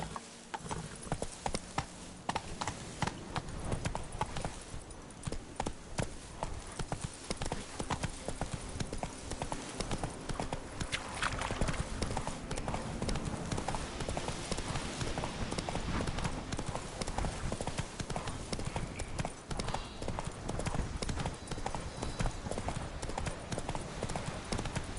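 Roach, Geralt's horse in The Witcher 3: Wild Hunt, gallops with steady, loud hoofbeats throughout, accompanied by faint creaking tack and a low rumble.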